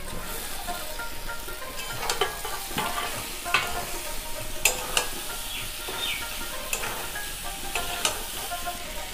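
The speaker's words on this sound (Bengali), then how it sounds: "দেখো তেলটা ছাড়ছে, আমি সবজিগুলো দিয়ে দিচ্ছি।" Vegetables go into hot oil with cumin powder and spices in a pan, for a village-style dish with malabar spinach and mrigal fish. A dense steady sizzle runs throughout, broken by irregular spatula scrapes and clinks, close and fairly loud.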